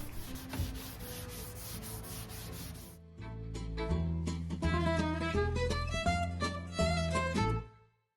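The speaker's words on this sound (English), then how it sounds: "I went ahead and just used this wax to give it an extra sealant, an extra layer of protection" Wax is rubbed by hand onto a chalk-painted roll top desk, making quick, rhythmic scrubbing strokes for about three seconds before music takes over.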